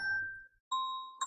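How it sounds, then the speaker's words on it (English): A mobile phone notification sounds as clear electronic chime tones, one ding, a short pause, then a second ding with a brief bright flourish, close and alone. "sorry, that was my phone."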